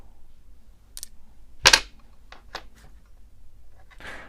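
Lionel postwar toy train wheel and axle parts snap free as a vise is released, giving one sharp, loud crack followed by a few softer clicks in a quiet workshop.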